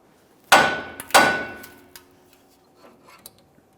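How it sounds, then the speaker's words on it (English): Two sharp metallic hammer strikes ring out close by on the tie rod joint of a 1999-2006 Chevrolet Silverado 1500, followed by a few lighter taps and clinks. "you could use a hammer and just cause some light vibration here"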